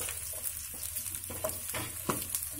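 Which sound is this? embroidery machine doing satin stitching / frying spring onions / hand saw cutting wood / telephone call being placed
frying spring onions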